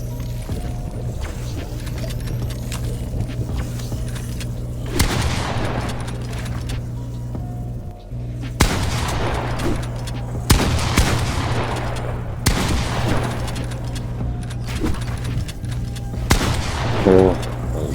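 Repeated bursts of gunfire from a console first-person shooter during a 1v1 tournament match, several loud volleys at spaced intervals over a steady background hum, with no talk.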